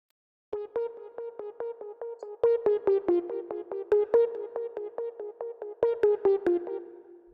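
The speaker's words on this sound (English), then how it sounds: "It kind of sounds like a Pluck, but this is what it sounds like." Serum synth pluck playing a counter lead melody in a dark ambient beat: a run of short, evenly paced plucked notes with bright harmonic tops, steady rhythm with brief accents, alone and fairly close.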